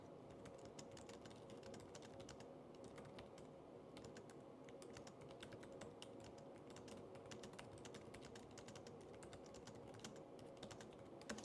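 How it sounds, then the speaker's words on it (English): Rapid typing on the low-profile keyboard of a Lenovo ThinkPad Z13 laptop, a steady stream of light, close key clicks with no talking over them. "The typing experience should be pretty good. Let's try it out."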